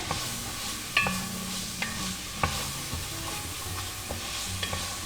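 Stew chicken frying in a pot with a steady sizzle, broken by several sharp scrapes and knocks of a spoon stirring it, close and fairly loud, with no talking.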